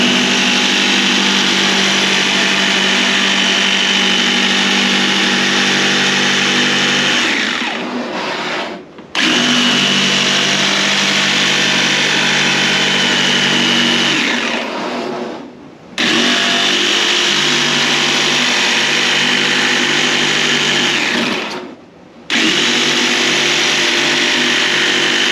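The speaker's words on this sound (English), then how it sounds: "Now I'm cutting a resin plastic, so I'm gonna go with speed number 1." A power tool set to its lowest speed cuts resin plastic for the bottom of a pot, a loud, steady whirring drone that runs in three long bursts with short pauses between them.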